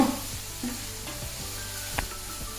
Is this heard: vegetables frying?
yes